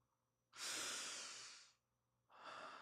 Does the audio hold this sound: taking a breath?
yes